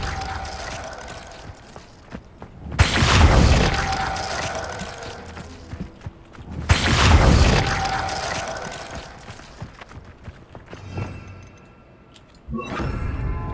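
Casting the Glacius ice spell in Hogwarts Legacy: two loud crackling, shattering bursts a few seconds apart, each swelling and fading, over a quiet game ambience with faint tonal hums, followed by lighter clicking effects near the end.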